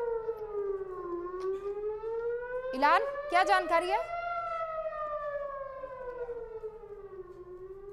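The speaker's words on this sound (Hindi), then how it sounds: "लेकिन पीछे देखिए आपको सायरन की आवाज़ ज़रूर सुनाई दे रही होगी।" A civil defense warning siren wails steadily during a rocket alert, its pitch slowly rising and falling, with a voice briefly talking over it midway.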